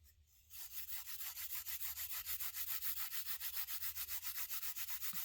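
Charcoal being ground for drawing, a close, fairly quiet, rhythmic rasping scrape repeating in quick even strokes after a brief faint start, with no voices.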